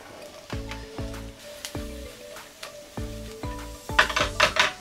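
Red beech mushrooms and onion stir-fried in butter sizzle in a pan, with repeated scraping strokes of a utensil against the pan and a brighter crackle building toward the end; no voices.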